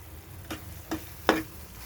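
Godavari prawns frying with masala in a pan, heard as three short stirring scrapes over a low sizzle, the last one the loudest.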